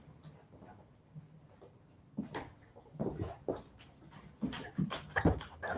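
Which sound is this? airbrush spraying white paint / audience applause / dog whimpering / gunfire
dog whimpering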